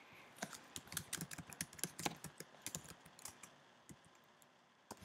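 Quick bursts of computer keyboard typing, close and fairly quiet, with clustered keystrokes and short pauses while a ham radio call sign is entered during score tallying.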